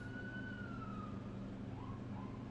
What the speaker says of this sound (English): A Yankee ambulance trying to get through?